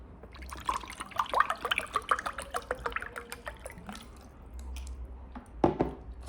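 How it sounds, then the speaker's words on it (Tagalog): Water being drunk during an eating session, a run of wet gulps and liquid trickles close to the mouth, dense at first and then easing, ending with a couple of sharper swallows. "Inom lang ko."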